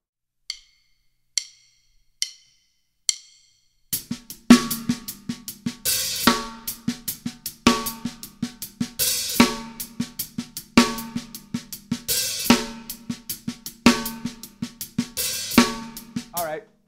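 Funky ghost-note groove played on snare and hi-hat with the hands only, no kick drum, opening with a few sparse isolated hits before settling into a steady rhythmic pattern of crisp accents and soft ghost strokes.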